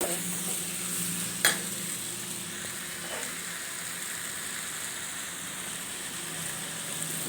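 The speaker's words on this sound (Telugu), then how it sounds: "ముందుగా ఉడికించుకుని చామదుంపలు వేస్తున్నాను" Boiled taro roots go into a hot pan for a taro curry, where a steady, soft sizzle and stir runs throughout, broken by one sharp knock early on and a fainter tap later.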